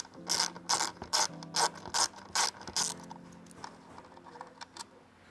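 A 3/8 ratchet socket wrench backing bed frame bolts out inside a van, giving a rapid run of loud, close clicking ratchet bursts that taper into lighter, sparser clicks.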